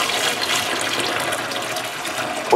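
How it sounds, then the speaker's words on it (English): Boiling water pours steadily into a container for steaming and heat-bending ash wood for a catapult, a continuous close, hissing, splashing flow with no voices. "Boiling water."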